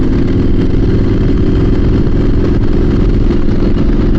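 A Triumph SS900 motorcycle engine idles close by, a loud, steady, unbroken throb with no voices over it.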